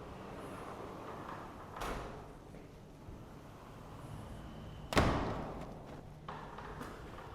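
A heavy sliding glass balcony door in a luxury condo, fitted with 13.5 mm thick glass, rolls and shuts with a solid thud, preceded by a softer knock, quiet and close in a still room.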